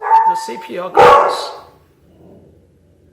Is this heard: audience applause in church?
no